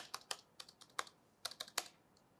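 Keys clatter quietly on the keyboard of an HP Fortis X360 G3 Chromebook: about a dozen light, irregular clicks close to the listener, with no talking.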